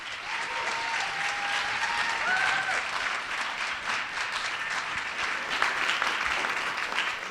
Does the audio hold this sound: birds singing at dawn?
no